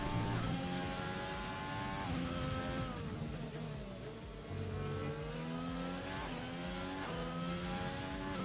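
Race car engines in the F1 2020 video game during a Brazilian Grand Prix league race on track, a loud sustained high-pitched whine that climbs and drops with gear changes, continuous and close, no talking.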